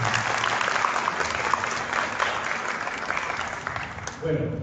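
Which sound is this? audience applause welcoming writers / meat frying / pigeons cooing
audience applause welcoming writers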